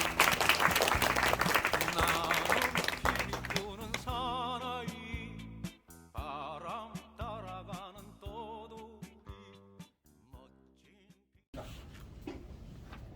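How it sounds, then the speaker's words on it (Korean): Audience applause for an insect-science lecturer at a science culture center talk in Jeju, a dense burst of clapping for about four seconds that thins into scattered claps and fades out. "큰 박수 부탁드립니다"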